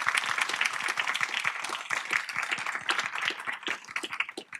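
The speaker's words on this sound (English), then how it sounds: "Please give her a great round of applause." Dense, steady applause from an audience at a Winter Ready DC community training session, many hands clapping at once for several seconds, close and fairly loud with no speech.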